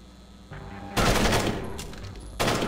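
Gunfire in the video game Splinter Cell HD: loud, dense bursts of shots in quick succession, with a brief pause before a second burst, heard close with no talk over them.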